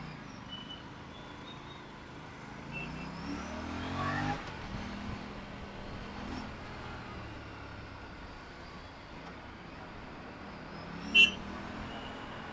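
An Aprilia RS 457 parallel-twin motorcycle accelerates on a real-world ride, its engine note rising and falling fairly faint, with a brief louder burst near the end and wind noise underneath.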